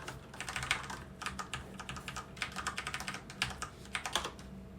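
Rapid keystrokes on an ASUS ROG Strix Flare mechanical keyboard, clustered bursts of clicky typing close by with short pauses between runs, no voices.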